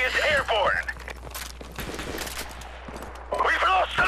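Bursts of gunfire in a Modern Warfare Remastered online team deathmatch on PS4, a few rapid volleys in the middle between stretches of game chatter and voice, moderately loud and close.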